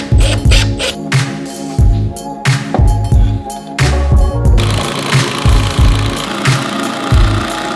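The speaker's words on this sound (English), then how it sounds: "The sound of beautiful arches being installed." Power drill driving 3-inch wood screws through wooden arches into wall studs during a home kitchen and living room renovation, loud repeated bursts of motor whine with short pauses between, close by and without talk.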